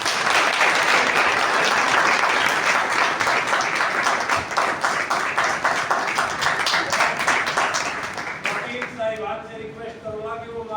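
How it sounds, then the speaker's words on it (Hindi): A crowd at a bar association gathering claps loudly and steadily to welcome a guest, sustained applause that thins near the end as voices come through. "तालियां।"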